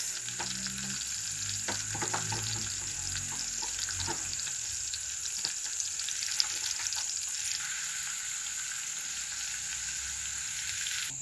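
Carrots for a cottage pie sizzle steadily in a hot pan in a village kitchen. A continuous frying hiss runs throughout, with light scraping stirs and small clinks near the start.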